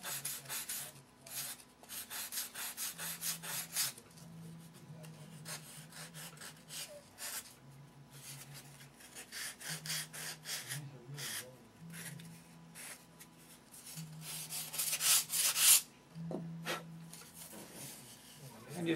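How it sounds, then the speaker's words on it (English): A foam model aircraft wing rib being sanded down to the foam, repeated raspy rubbing strokes in a steady back-and-forth rhythm, close and fairly quiet, with no talking. "And just sand down to the foam, and that's a perfect rib."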